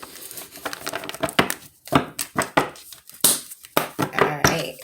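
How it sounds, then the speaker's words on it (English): A rapid series of crisp, papery slaps and riffles, bursts of tarot cards being shuffled close up, with short pauses between rounds. "So I do definitely shuffle the hell up out of them."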